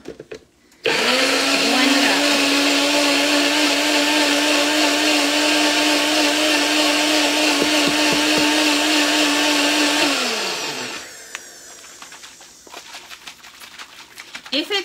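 A blender whirs loudly and steadily for about ten seconds, blending a Big Mac salad dressing with pickles, sugar and vinegar, then winds down to a stop, followed by faint kitchen clatter.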